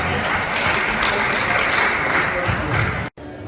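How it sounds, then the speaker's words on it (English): Audience applause for bodybuilding competitors at the West Rand Classic show, a dense, sustained roar of clapping close by that cuts off sharply near the end. "Let's give them a round of applause as they take their snapshot."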